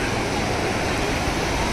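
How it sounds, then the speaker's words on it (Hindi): A roadside waterfall on the way to Sinthan Top rushes in a loud, steady broadband roar close by, unbroken for the whole short stretch. "झरना।"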